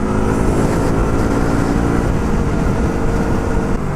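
A brand-new motorcycle being broken in holds a steady 70 kph: continuous loud engine drone mixed with heavy wind rush, constant and close, with no speech.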